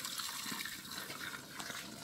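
Warm water with dissolved root solution poured from a watering can into a planting hole while transplanting shrubs in spring, a steady close gushing splash running throughout.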